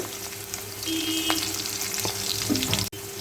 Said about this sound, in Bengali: দিয়ে একটু ভালো করে ভেজে নেব লালচে করে ভেজে নেব আলুগুলোকে